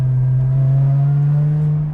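A Lotus Exige 430 Cup fitted with an IDS 500hp kit and 520 Nm of torque, driven in sport mode, drones loudly and steadily as the engine revs build, with a slight rise in pitch throughout.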